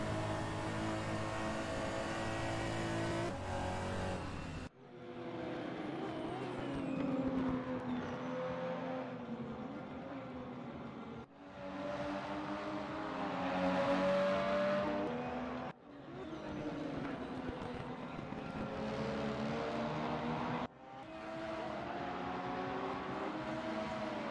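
Race cars in a racing video game scream down the Nordschleife straight, engines revving high and steady with rising whines, broken by abrupt cuts between sections, loud and close throughout.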